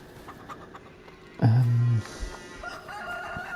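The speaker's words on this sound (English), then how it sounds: "That's the chickens." Chickens in Farming Simulator 25 with a single loud rooster crow lasting about half a second, followed by softer clucking over a quiet barnyard background.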